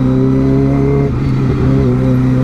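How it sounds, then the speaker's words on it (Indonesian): Engines drone steadily in a traffic jam, a continuous low rumble of several motorbikes idling and revving close by. "Rame motor."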